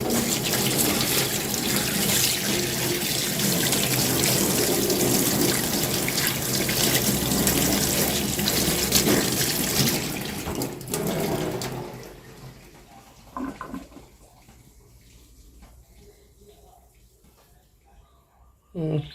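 Running tap water splashes steadily as a Thai Buddha amulet is rinsed after soaking in lime juice, flowing loudly for around eleven seconds before stopping, leaving faint drips and handling noises; someone speaks over it.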